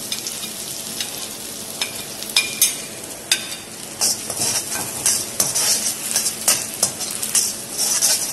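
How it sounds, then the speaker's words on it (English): Garlic sautés in hot oil in a wok for a Chinese dish, with a steady broadband sizzle and scattered sharp scrapes and clinks of a utensil stirring against the metal, close and fairly loud with no talking. "Saute the garlic lightly,"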